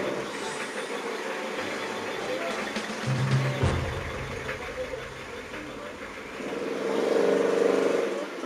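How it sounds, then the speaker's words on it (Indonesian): A car drives past a spot near where a computer sits mid-reinstall, a low engine rumble building and fading over several seconds, with a brief louder thump partway and a renewed swell of noise near the end, no speech. "Ada mobil lewat bro."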